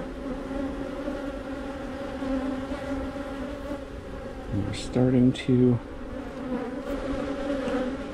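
Honey bees swarm and buzz around an open hive frame, a steady dense drone close to the camera with a few louder passes near the end while a voice briefly speaks over it.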